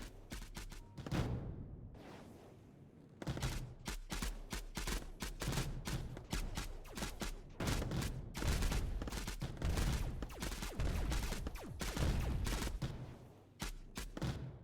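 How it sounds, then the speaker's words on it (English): Long-range missile fire from a tier 3 crawler in the game Mindustry comes as dense bursts of rapid explosive shots and thuds, loud and continuous with brief lulls between volleys. "That long-range missiles coming from the tier 3 crawler are just abysmal"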